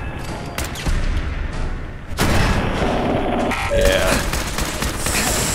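Turret bot gunfire in Fallout 4 rattles in rapid bursts of sharp shots and booms, loud and close, with mechanical clanks between volleys and a voice briefly speaking.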